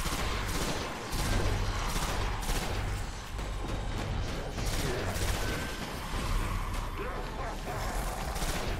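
Dense gunfire in the video game Destiny during a strike run, with rapid bursts and clanking mechanisms, loud and sustained throughout with a busy, layered battle texture.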